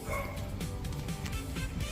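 A dog barks and yips a few times amid a busy, noisy indoor setting in a house in Imus, Cavite.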